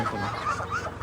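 Ducks by a rural roadside give a short, close run of nasal quacking calls, loud and continuous for about a second.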